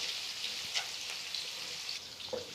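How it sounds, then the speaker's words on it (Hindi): Onions fry with whole garam masala in a pan, giving a faint, steady hiss with light crackles and a few soft stirring taps. "अब हम इसमें प्याज ऐड करेंगे"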